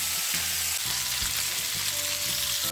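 Tomatoes and thyme stirred in a frying pan for an eggplant kebab dish, a constant loud sizzle with soft spatula scrapes recurring every half second or so, close up and without any voices.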